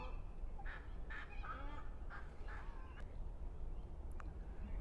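Several birds feeding their young give nasal, honking, duck-like quacks in short bursts over a steady low background rumble at Adelaide Botanic Gardens.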